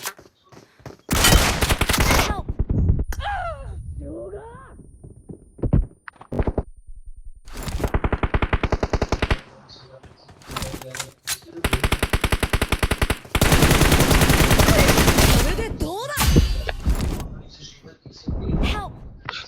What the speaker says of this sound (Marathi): अबे याला एक दोन गोळ्या पडल्या वेदांगला